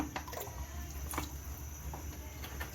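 A pot of water nearing a boil for spaghetti, with cooking oil added, gives a faint, steady bubbling and hissing simmer, with small clicks and drips over a low continuous rumble.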